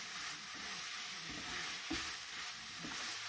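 Korean fish cake stir-frying in sauce in a pan, a steady close sizzle with soft scraping stirs every half second or so.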